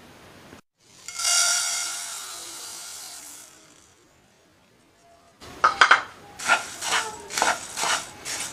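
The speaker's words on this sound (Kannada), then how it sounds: "ಎಲ್ಲ ಪದಾರ್ಥಗಳನ್ನು ಚೆನ್ನಾಗಿ ಹುರಿದುಕೊಳ್ಳೋಣ ಇವಾಗ" Chicken masala spices dry-roast in a kadai: a long hissing rush fades to near silence, then a spatula scrapes and rattles in quick, loud bursts against the pan.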